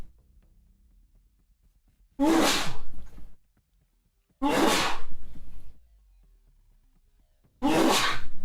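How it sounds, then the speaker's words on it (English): Three loud, close sneezes, each a sharp explosive burst, spaced a couple of seconds apart with quiet between them. "I gotta sneeze."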